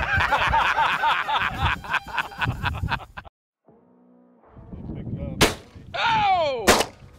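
Shotgun blasts during a shooting contest outdoors, sharp loud reports, with bursts of people talking and laughing between the shots.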